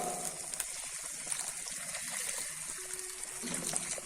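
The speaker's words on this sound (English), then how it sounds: "After 1 minute, we have to add enough water." Water pours into a prawn curry cooking in a mud pot, a steady gushing, splashing flow that runs close and fairly soft for several seconds with no talk over it.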